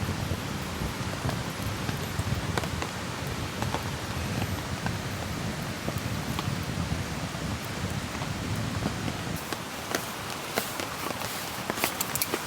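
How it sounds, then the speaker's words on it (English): Heavy rain falls steadily on a tarp at a solo campsite, a dense, constant patter with scattered sharper drops, continuing without a break and with no talking. "At least the rain's not pouring onto it"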